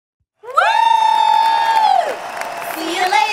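A single loud, drawn-out whooping cheer rings out for a cheer squad, rising sharply and holding steady before trailing off, followed by a softer second call, with a faint crowd feel behind it.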